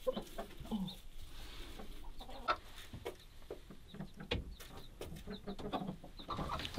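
Chickens on a far-north homestead cluck and murmur near and far in a busy, uneven stream of short calls, with no talking.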